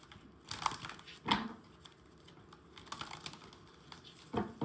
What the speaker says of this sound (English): I'm getting to keep shuffling.